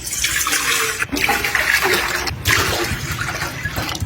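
Water poured into a drinking glass, to be boiled in a pot over a gas stove for cooking corn: a steady splashing, running pour, close and fairly loud, with two short breaks in the flow.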